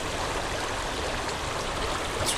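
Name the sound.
flowing creek water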